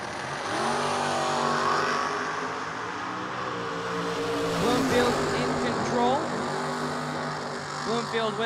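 Sticker-class dragster making a drag strip run during Saturday bracket racing, its engine roaring and shifting pitch as it accelerates, loud and continuous, with a track announcer talking over it.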